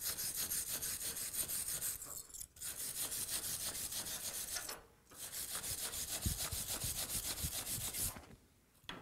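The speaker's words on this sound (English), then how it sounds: "So I'll hit this with the wire brush here." Wire brush scrubbing a MIG-welded aluminum piece in steady, continuous rasping strokes, close and moderately loud, broken by two brief pauses, with no speech.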